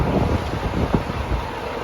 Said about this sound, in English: It is a tornado watch right now, and it's really windy.